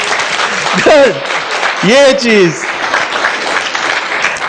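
An audience at a panel discussion applauds in a steady wash of clapping while someone speaks over it, his voice rising clearly above the continuous applause.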